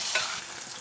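Red chilli sauce being stirred into chilli fries in a frying pan, a short close scrape of the spoon over a soft sizzle, with no voices.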